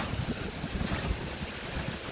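Sea wind buffets the microphone at a beach as waves wash in underneath, a continuous rough roar with no voices.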